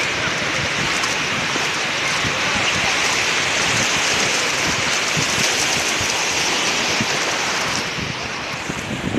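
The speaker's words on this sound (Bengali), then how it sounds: "বেড়ার থেকে পানি বাড়ি মারতেছে, পানি মেরে হেলা দিচ্ছে" Sea water at Cox's Bazar beach surges and crashes against a barrier in a continuous loud, hissing roar that eases slightly near the end.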